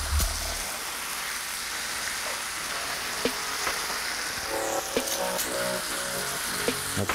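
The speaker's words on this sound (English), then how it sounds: "while we got this hamburger meat and breakfast sausage and bacon cooking up" Hamburger meat, breakfast sausage and bacon fry together in a pan, giving a steady, close crackling sizzle throughout with a few sharp clinks of a utensil stirring near the end.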